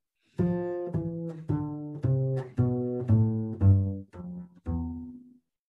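A bass line of sustained low notes steps downward one after another in a scale, about ten separate tones in a steady descending line, with no voices.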